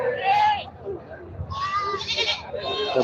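Large castrated goats bleat in bursts at a busy livestock market in Bhangura, Pabna, while someone talks over them nearby.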